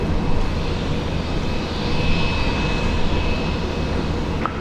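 A Virgin Australia Velocity jet airliner taking off from runway 19 left at Brisbane airport, a steady broad engine roar held at even loudness throughout, moderately distant with no other sounds standing out.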